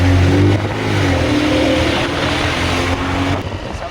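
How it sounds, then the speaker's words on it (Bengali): A motorbike is ridden along a road to a school, its engine loud and close. The revving tone rises and falls over a continuous rushing drone, with no voices. "আমরা যেটা বাইক চালাচ্ছি বাইক চালাচ্ছি"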